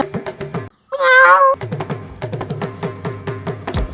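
A human voice imitates a cat, giving one drawn-out, whiny meow near the start, set against a busy background of rhythmic clattering sounds.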